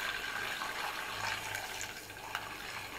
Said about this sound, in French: Je ne sais pas si vous entendez ce bruit de beurre.